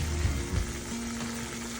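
Pieces of tilapia frying in hot oil give a continuous, even sizzle with faint bubbling, steady and close over a low kitchen hum, no talking.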